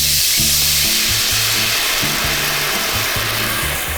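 Lemon chicken sauce sizzles and bubbles steadily in a hot skillet over medium heat, a loud continuous hiss with low stirring thumps underneath and no talking.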